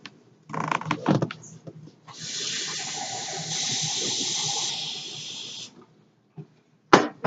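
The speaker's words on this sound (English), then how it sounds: "Then I need to add my 1 cup of water." A cup of water pours into gluten-free cake mix, a steady gushing stream lasting a few seconds after some handling noises, with a brief clatter at the end.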